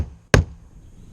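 A single sharp metallic knock of a peening tool struck on a rivet set over a wood block beside a fiberglass boat hull, loud and close, followed by quiet room tone and a faint second tap at the end.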